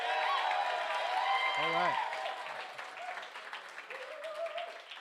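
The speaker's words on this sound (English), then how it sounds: "I'm going to say welcome to the local show, and you guys clap like crazy." A live show audience claps and cheers loudly throughout, with a voice speaking briefly over the steady applause.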